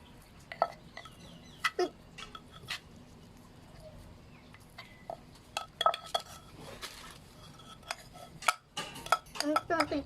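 A spoon clinks and scrapes against a bowl while Thai noodle salad with sugar and chili is mixed, irregular close taps growing busier toward the end, a voice speaking briefly.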